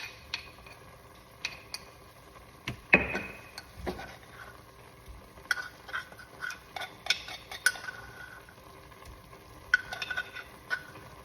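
Picadillo meat with fresh garlic being stirred in a pan: a spoon scrapes and clinks against the metal in irregular strokes over a faint sizzle, close and fairly quiet, with no talking.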